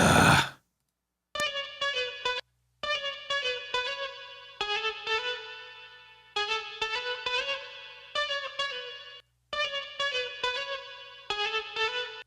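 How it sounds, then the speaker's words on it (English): Heavily effected electric guitar tone with distortion, chorus and echo, playing repeated bright plucked phrases in bursts separated by short silences, loud and alone with no talking, during a beat-making session. "I can't wait till I know how to fucking get tones like this on my guitar"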